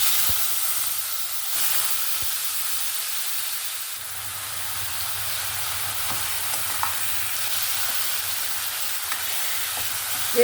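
Taro greens are stirred into tempering spices in a pan, frying with a continuous loud hissing sizzle and occasional soft scrapes of a spoon, with no talking.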